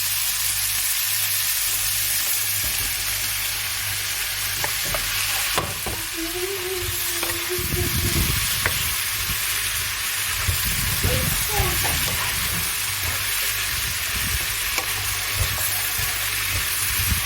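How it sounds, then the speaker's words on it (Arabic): Vegetables with mushrooms sautéing in a pan for a chicken fillet dish, a steady close sizzle broken by stirring scrapes and a few louder clanks, with brief voice-like tones in the middle. "نشوح الخضروات شوي مع بعض. بنضيف عليها الفطر."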